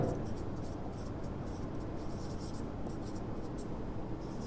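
A determinant symbol being written by hand for a maths lesson, a steady scratchy writing sound running continuously at close range.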